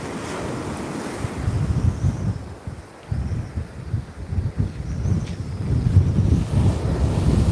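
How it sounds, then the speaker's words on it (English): Strong gusting wind buffets the microphone on a UK seashore during sea fishing, with the roar of surf underneath, swelling and dropping in loud uneven blasts. "that wind is nasty"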